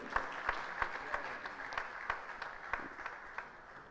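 An audience applauds at a university public lecture in Nigeria, a fairly faint, distant ripple of clapping with evenly spaced louder claps cutting through, fading slightly toward the end, with no talking.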